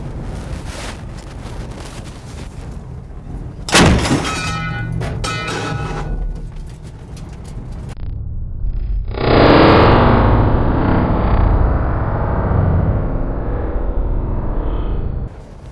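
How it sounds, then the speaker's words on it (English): A 76mm gun on a Hellcat tank destroyer fires a massive round through a car: a single sharp, loud blast, followed by a long rushing, distorted roar and wind noise that gradually settles. "so we're going to shoot that car down there, and I think we're going to shoot all the way through it with this massive round"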